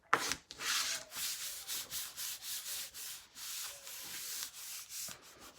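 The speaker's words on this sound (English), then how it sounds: "And burnish it down." Paper rubbed firmly down onto a mini album page with a burnishing tool, using Stamperia Alice papers, giving a run of close, dry scratchy strokes in a steady back-and-forth rhythm with no talking.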